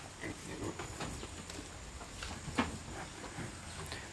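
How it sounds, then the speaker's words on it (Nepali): A pig grunts and snuffles in its pen at a farm sty, low close oinks scattered over steady outdoor background noise, with a brief louder snort midway. "हेर्नु हाम्रो सुँगुर"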